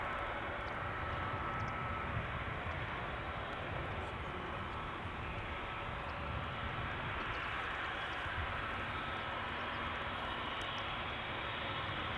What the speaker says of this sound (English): 3 more airplanes are coming